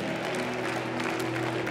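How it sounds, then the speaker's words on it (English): A church congregation on Easter Sunday claps and cheers together, a steady dense wash of applause and crowd noise held evenly from start to finish at moderate level. "Give them a big cheer."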